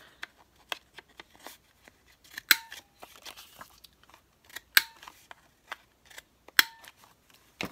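Scissors snip around the corners of a paper strip while hidden paperclips are being made: a few sharp close cuts stand out among lighter quiet snips and paper handling, with no talking.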